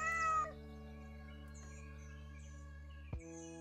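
A short cat meow from the Super Auto Pets video game plays once at the start over a quiet, sustained musical backdrop, followed by a small click later.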